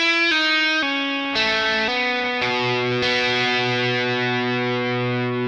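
Distorted electric guitar plays a riff, a few sustained chords changing in quick succession before ringing out, loud and close with effects.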